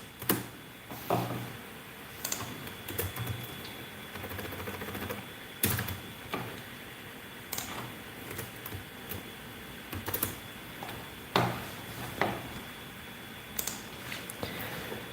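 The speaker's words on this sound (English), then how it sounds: "when I'm done typing, tell me when you're done typing" Typing on a computer keyboard at a desk, a steady run of close, crisp key clicks with heavier keystrokes every second or two, continuing alone without talk.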